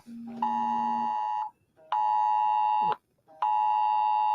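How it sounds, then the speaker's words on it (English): A phone alert tone for a missing-person notice sounds during a Colorado Rockies at Seattle Mariners baseball broadcast: three loud, steady electronic beeps, each about a second long, separated by short gaps. "missing person come up on the phone"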